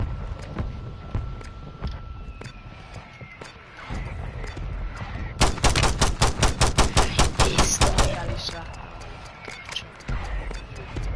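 Video game gunfire in Warzone: scattered shots over busy background noise, then a long loud rapid burst of automatic fire with evenly spaced reports, trailing into a few more shots.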